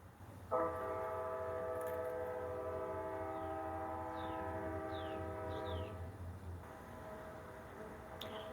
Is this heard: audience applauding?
no